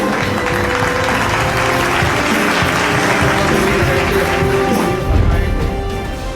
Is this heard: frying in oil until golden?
no